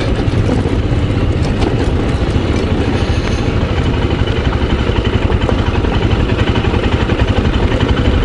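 A Royal Enfield Scram 411 motorcycle engine drones steadily and close by on a dirt track, with a rough rumble and rattling bumps throughout, as if riding over uneven ground.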